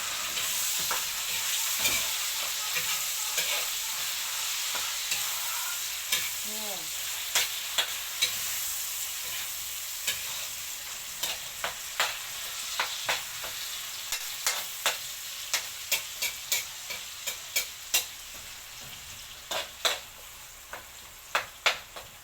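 Bagoong shrimp paste fries in a pan with a steady broadband sizzle, while sharp scraping stir strokes grow louder and more frequent toward the end.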